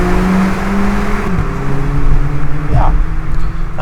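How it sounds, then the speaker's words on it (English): A used VW Polo GTI engine is revved hard up to the red line in a loud, sustained run, its pitch climbing and holding steady near the top, with faint tyre or road noise underneath. "nice, healthy engine, revving nice and cleanly"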